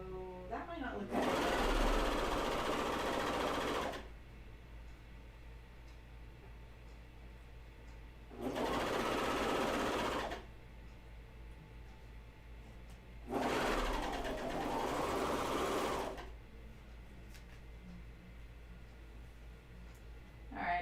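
A serger sewing machine stitches underwear fabric in three separate bursts of rapid, buzzing whir, each lasting two to three seconds, with quieter gaps of handling between runs, close and loud.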